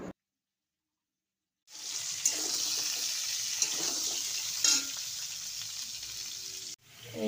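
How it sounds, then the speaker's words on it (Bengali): Pointed gourd (potol) slices fry in a pan with a steady, moderately loud sizzle that starts after a brief silence and cuts off abruptly near the end. "এদিকে আবার পটল ভাজা হচ্ছে"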